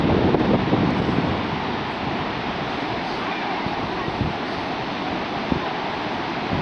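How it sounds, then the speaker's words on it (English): Steady, roaring 15-20 mph wind buffets the microphone on Inch Strand beach near Dingle, with a broad rushing wash like surf underneath, continuous and loud throughout. "I would reckon 15-20 mile an hour wind, something like that."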